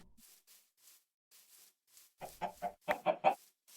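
A chicken in the Minecraft modpack SevTech Ages gives a few soft clucks, then a closer burst of quick, louder clucking calls, with no talk over it.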